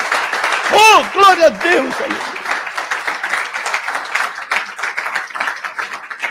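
After a brief shouted exclamation, a church congregation claps continuously at a moderate level, with a voice speaking over the applause.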